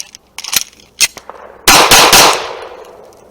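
Handgun fired during a tactical shooting drill, a string of sharp, loud close-range shots, a few spaced single reports and then a rapid burst, with ringing decay at the end.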